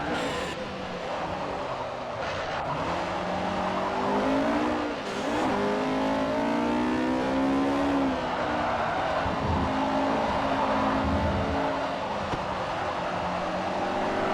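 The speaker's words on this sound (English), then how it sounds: "And we'll just listen in to Catters as he does a lap of Tsukuba Short Circuit in the Lotus 211." A Lotus 211 race car laps Tsukuba Short Circuit in Forza Motorsport 4, its engine droning and revving continuously as it climbs through gears and lifts briefly for corners, loud and close throughout with no talk.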